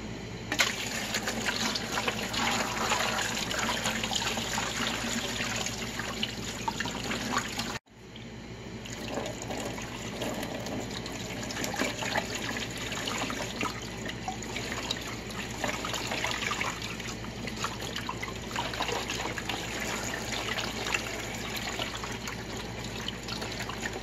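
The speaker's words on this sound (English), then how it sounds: "We're going to fill this canner up before the neck of the lower level of the jars." Tap water runs continuously into a pressure canner, a steady splashing rush that briefly cuts out, then resumes with a slightly hollower pouring tone as the pot fills.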